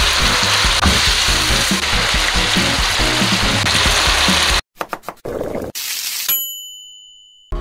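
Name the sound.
bean sprouts and vegetables stir-frying in a pan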